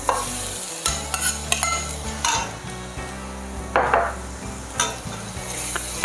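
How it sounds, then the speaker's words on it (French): Bell pepper strips sizzle in a pan with onions and garlic for a chicken basquaise, stirred repeatedly with a utensil that scrapes and knocks against the pan in irregular bursts over a steady frying hiss, close up with no talking. "j'ajoute dans mes oignons et mon ail mes poivrons coupés en lanières"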